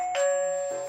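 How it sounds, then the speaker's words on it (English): A Hikvision AX Pro wireless door detector gives a single bright electronic chime, close and clear, its tone ringing on steadily after the strike. "I may want it to chime when someone opens the door"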